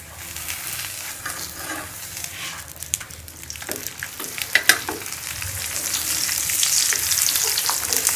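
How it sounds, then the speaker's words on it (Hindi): A spinach paratha brushed with ghee sizzles on a hot griddle, a close steady crackle that swells with brief sharp spits as it is flipped and pressed, with no voices. "दूसरी साइड से भी अच्छी तरह से पका लें पराठे को"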